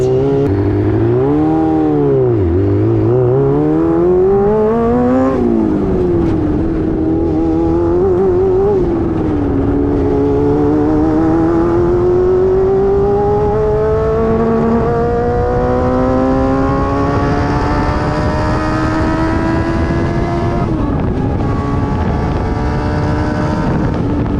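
A car engine revs hard and climbs through the gears at high speed, loud and close, its whine dipping and then rising steadily over heavy wind rush and road roar, with no talking.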